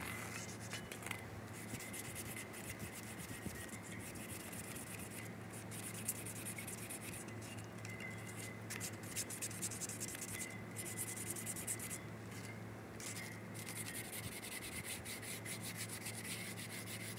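Rusty chrome is scrubbed with crumpled aluminum foil and Diet Coke in a steady, close rubbing and scraping rhythm, with short pauses between strokes and no talking.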